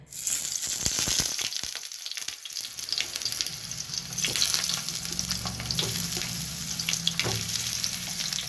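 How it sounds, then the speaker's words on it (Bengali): Eggplant slices fry in a little hot oil, giving a steady, close sizzle with occasional stirring clatter and crackle throughout, no voices. "তেল গরম হয়ে গেছে আমি এবারে বেগুনগুলোকে ভেজে নেব"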